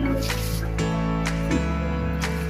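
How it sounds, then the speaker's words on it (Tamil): Mutton is stirred with ginger garlic paste and water in a pressure cooker, giving wet squishing and sloshing strokes at a slow rhythm over a steady low hum. "நான் 1 செம்பு அளவு தண்ணி ஊற்றி நல்லா மிக்ஸ் பண்ணி"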